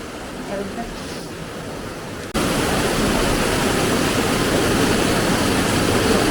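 Heavy monsoon rain pours in Gandhinagar as a dense, loud, continuous roar. It surges in abruptly after a quieter opening with a faint voice, then holds steady to the end.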